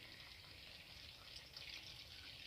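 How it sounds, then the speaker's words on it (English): Water is poured into a pot of browned chicken feet for a stew, a faint, steady splashing hiss lasting the whole moment with no talk. "We're gonna pour some water,"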